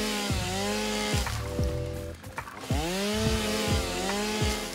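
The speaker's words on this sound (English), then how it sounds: "Get chainsaw to a fern." A chainsaw in the video game Satisfactory cutting plants such as ferns, revving in repeated bursts with falling pitch sweeps, close and loud with no talking.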